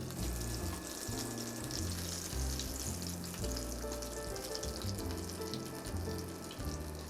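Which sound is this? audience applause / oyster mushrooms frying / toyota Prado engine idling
oyster mushrooms frying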